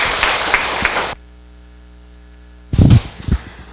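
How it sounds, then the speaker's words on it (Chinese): An audience at a law school beginners' class applauds to welcome a lecturer with a loud, dense burst of clapping for about a second, then near silence, then a few louder knocks and rustles. "请掌声欢迎，谢谢。"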